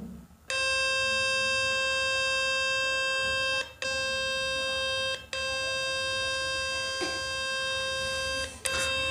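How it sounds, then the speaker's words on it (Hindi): A loud, steady electronic beep tone from a phone's speaker-cleaning function sounds for several seconds, broken by a few brief dropouts, harsh and close, with no one speaking. "आपके फ़ोन से काफ़ी लाउडली बीप की आवाज़ आएगी"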